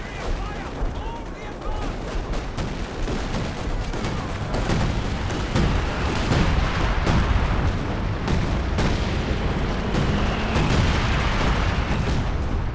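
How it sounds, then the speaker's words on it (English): Artillery barrage from 105 mm guns shelling trenches in the strategy game Company of Heroes 2, a dense continuous rumble of overlapping booms and blasts at steady loudness, with sharper impacts in the later seconds. "105 artillery trying to get him out of the trenches, force him off the VP."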